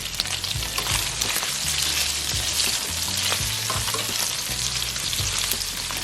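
Bacon and sausage frying in a pan, cooked extra crispy, giving a loud, dense, continuous sizzle and crackle up close with occasional scraping stirs and no talking.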